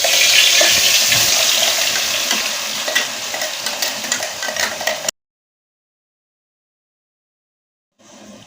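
Ground masala paste hits hot oil in a pan and sizzles and spatters loudly for about five seconds, then cuts to silence before a brief return of frying near the end.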